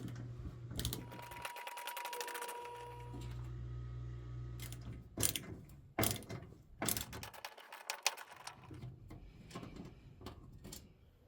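Screws being backed out of the top panel of a Frigidaire Affinity dryer, with ratcheting clicks and metallic mechanism noise, a steady low whirr, and several sharp clunks and knocks near the end.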